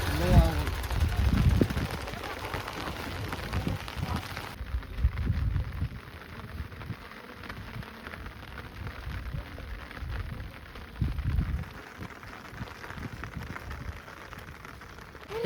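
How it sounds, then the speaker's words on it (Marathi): Rain falling at a rural herders' camp, a soft steady patter and hiss throughout with louder low thumps and rustling near the start, while people talk at times. "पाऊस येतोय पाऊस येतोय"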